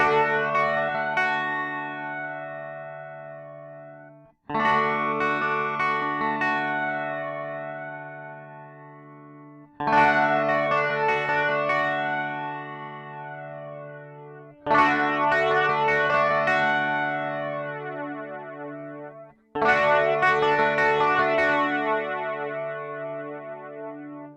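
A TC Electronic Thunderstorm flanger pedal sweeps over electric guitar as five sustained strummed chords ring out, each fading before the next, with a swirling, jet-like modulation.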